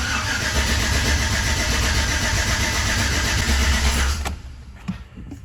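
A Chevy Silverado engine turns over on its starter with a loud, rapid, continuous cranking churn that stops abruptly after about four seconds, followed by quiet with a faint click.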